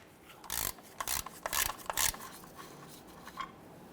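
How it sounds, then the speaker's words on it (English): A 3/8-inch ratchet loosens the rear differential fill plug on a 2006-2010 Hummer H3, giving several short clicking bursts of ratcheting up close, then quieter scraping and handling noises. "Use your 3/8 ratchet and loosen or remove this plug."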